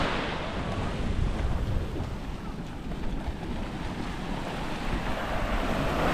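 Ocean surf washes onto a beach in a steady, broad rush, with wind buffeting the microphone and no clear talk.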